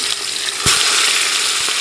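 Jamaican oxtail sizzles and fries in a hot pot, a steady broadband crackle with a sharp louder burst as the meat hits, then continuous loud sizzling with no voices.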